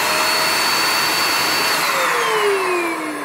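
An ash and debris vacuum cleaner, used for chimney sweeping and stove cleaning, runs steadily and loudly up close with a constant motor whine that dips slightly in pitch near the end.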